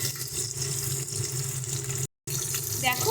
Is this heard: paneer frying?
yes